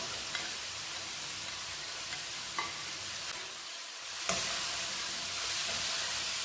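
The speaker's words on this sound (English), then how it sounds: "Give it a mix, nice mix" Okra with onions, tomatoes and spices sizzles steadily in a hot pan while a spoon stirs it, producing a dense, continuous frying hiss with a few scraping knocks, close and loud.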